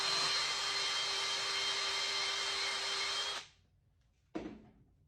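A wire brush scrubs inside the hosel of a golf club head in a steady, loud, rasping whir for about three seconds, then stops abruptly and is followed by a single short scrape.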